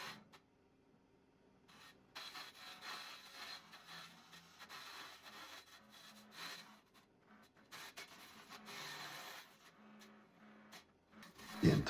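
Wood hollowed out on a lathe with a cutter, turning a cracked burl into a vessel: a steady, fairly quiet scraping and rasping runs throughout with small fluctuations, ending in a brief louder knock.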